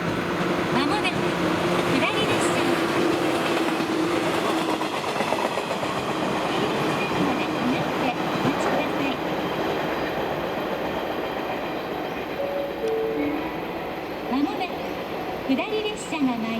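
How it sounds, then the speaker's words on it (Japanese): A Shinano Railway 115 series down train rolls into a station with a steady rumble and faint wheel clatter, while a platform announcement plays over the noise. "まもなく下り列車が参ります。"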